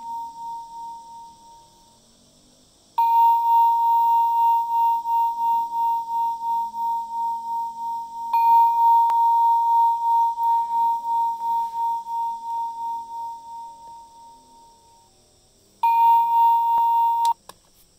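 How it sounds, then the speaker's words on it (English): The high chime alarm of an OffGrid Mindfulness Clock sounds as three long, clear electronic tones, each sustained for several seconds and separated by brief quiet, fairly loud and alone. "We're getting ready to listen to the high chime, which I have never actually heard"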